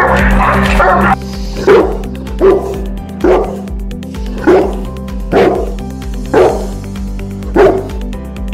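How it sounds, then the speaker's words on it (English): A Presa Canario dog barks loudly and close, a long opening bark followed by about seven evenly spaced deep woofs. "In our opinion, the Presa Canario has a powerful bark."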